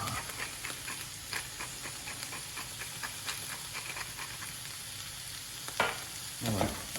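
Vegetables and garlic paste sizzle quietly in a pan under a soft, steady frying hiss, with light scraping strokes as they are stirred and a couple of louder clinks near the end.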